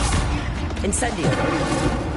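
The Incendio fire spell being cast in the video game Hogwarts Legacy: a short burst of whooshing, crackling flame mixed with combat impacts, close and loud, with a voice speaking over it.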